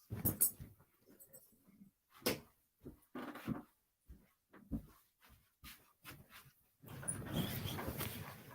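A pet dog whimpers and yips in short, scattered bursts close to the microphone during a live baseball play-by-play broadcast, ending in a louder stretch of rustling noise.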